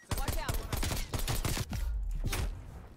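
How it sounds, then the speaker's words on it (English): Pistol shots ring out in Call of Duty: Black Ops Cold War, a quick series of loud, closely spaced cracks with brief gaps between them and little else in the mix. "I'm shooting with a pistol."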